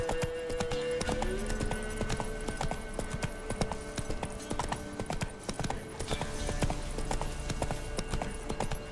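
Galloping horse in The Witcher 3, its hooves pounding in a steady, rapid clip-clop that runs the whole time over tonal game music.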